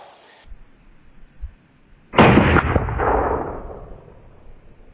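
A single sharp, loud report from a homemade black powder pistol with a rough drilled, crooked barrel and no sights, fired offhand. The crack rings out close and decays into a rumbling tail over a few seconds, with no talking.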